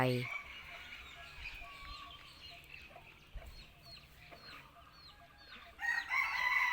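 Bantam chickens cluck and crow nearby, with a rooster's crowing call and bursts of clucking over a soft background, and a faint voice underneath at times.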